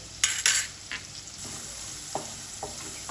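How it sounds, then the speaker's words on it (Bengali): Gentle sizzling of garlic frying in a pan, broken by a few sharp scrapes and clinks of a spatula stirring. "রসুনটা একটু ভাজা ভাজা হবে, হালকা, কিন্তু খুব বেশি না।"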